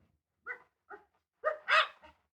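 An Irish setter barks in a radio drama scene, several short barks coming in quick bursts that grow louder toward the end, fairly close and clear.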